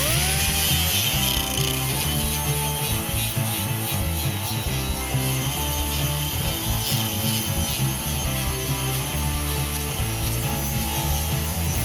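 Grinding down a MIG-welded patch on a rusty bracket from a Hemi-powered traditional hot rod, a steady, loud abrasive whir with shifting pitch as the tool works the metal, with no voices.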